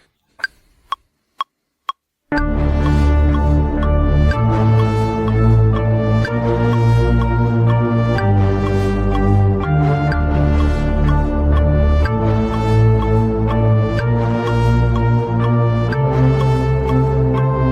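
After four quick clicks, a loud Arturia Pigments synth lead plays a sustained melodic line over a steady looping beat with heavy bass.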